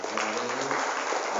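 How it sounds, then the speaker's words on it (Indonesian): Audience applause at an anti-bullying seminar held at an Islamic senior high school, a steady broadband patter of many hands throughout, with some voices murmuring underneath. "Sekali lagi, tepuk tangan untuk SMA"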